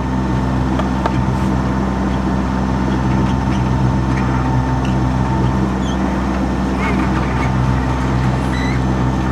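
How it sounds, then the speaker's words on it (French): A sailboat running under engine power, a loud, steady low drone and hum that holds continuously without letting up. "Fait qu'on fait du moteur à la place."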